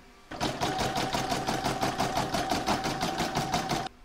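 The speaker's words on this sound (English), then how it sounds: "I'm going to stitch round number 1, which is the outline" An embroidery sewing machine stitches the outline round of a single-hooped patchwork star block, a fast, steady mechanical chatter of repeated needle strokes that starts abruptly, runs loud and even for about three and a half seconds, then stops.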